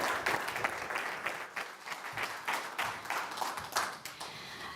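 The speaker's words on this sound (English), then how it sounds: "Let's give a round of applause for Annette." A seminar audience at an energy storage event claps for an introduced speaker, a full burst of many hands with pulsing intensity, close and loud, continuing steadily across the whole stretch.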